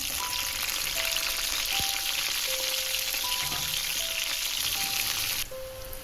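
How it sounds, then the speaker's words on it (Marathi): Capsicum and onion fry in a pan, giving a loud, dense, unbroken sizzle close by that drops slightly near the end, with faint tonal beeps over it and no talking. "शिमला आणि कांदा मी तळून घेते थोडा."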